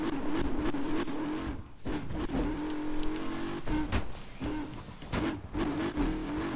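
A Bugatti Chiron in the Need for Speed Unbound racing game, heard from the cockpit, revs and accelerates loudly with repeated rising engine pulls and brief shifts between them.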